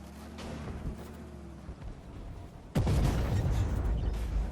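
A sudden heavy tank cannon boom in the video game Armored Warfare cuts in partway through, followed by sustained loud rumbling over a quieter engine hum.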